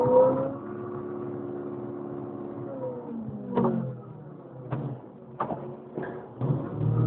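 A Caterpillar R1700G underground mining loader drives along with a low diesel engine drone that rises and falls, punctuated by several sharp clanks and knocks in the enclosed setting.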